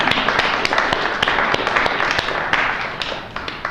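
An audience at a museum talk claps in a full, even round of applause, dense and close, with a few sharper individual claps standing out.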